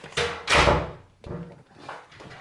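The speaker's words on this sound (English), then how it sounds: "I need to close this door, guys." A kitchen door swings shut with a couple of thudding knocks and some rattling, close and fairly loud, with no talk over it.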